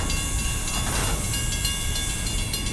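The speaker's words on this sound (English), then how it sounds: "It sounds like an air brake." Air hisses steadily from the air brakes of an empty BNSF coal train, a broad continuous rushing noise mixed with rolling rail rumble, close and fairly loud throughout.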